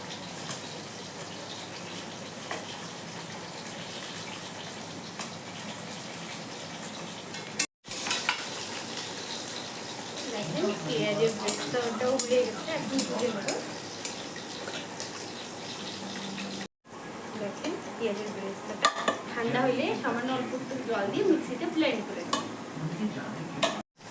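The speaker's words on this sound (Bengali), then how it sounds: "ওই তেলেই আমি আলু কটা ভাজি" Potatoes fry in oil in a pan, making a continuous, fairly loud sizzle with stirring scrapes and clatter layered over it, broken by two brief silent cuts.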